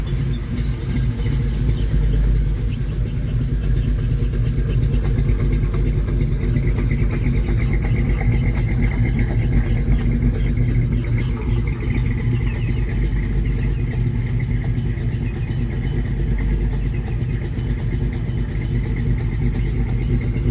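A warmed-up Chevrolet C10 pickup with a 406 cubic inch V8 runs continuously with a slightly lopey idle, a loud, steady low rumble with occasional light revs and no talking.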